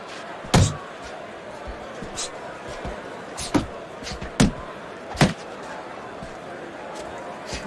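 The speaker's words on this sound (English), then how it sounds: "what a power punch by Macho" Heavy power punches landing in a Fight Night Champion boxing match, Callum Smith against Danny Jacobs: several sharp, loud thuds spaced a second or so apart over a steady crowd and commentary bed.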